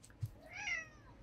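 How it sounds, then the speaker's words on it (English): A sick cat shut in a carrier gives one faint, drawn-out meow, heard nearby in a quiet indoor space after a soft thump. "and meowing a lot."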